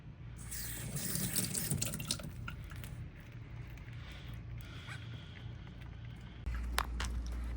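Tap water runs steadily over fresh crab meat at an outdoor sink, a continuous close splashing stream with a brief louder gush near the end.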